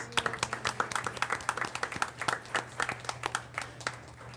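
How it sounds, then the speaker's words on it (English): Light applause at a school board meeting, a small group clapping with distinct, separate hand claps in an uneven rhythm, fairly quiet against a low steady hum in the room. "Let's give Judge Paul Farrell a big round of applause."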